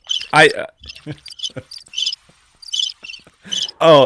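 A voice imitates cricket chirps with the mouth, a quick uneven series of bright, raspy trills with brief pauses between them.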